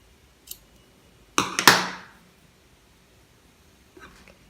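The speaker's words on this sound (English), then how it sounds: "cut the yarn, cut the first tail" Scissors cut crochet yarn with one brief close snip and crunch, preceded by a faint click and followed by quiet.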